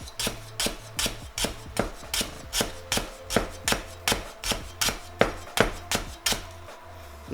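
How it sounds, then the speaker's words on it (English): A knife slicing through a heavy lemongrass stalk on a board, about fifteen crisp, evenly spaced chops in a quick, steady rhythm, close and loud with no talking. "This, the heavy stalk part, you can slice that way."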